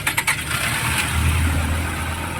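A Toyota Camry with a faulty ignition coil is restarted during a check-up: a few quick cranking bursts, then the engine settles into a steady, fairly loud idle with a low rumble.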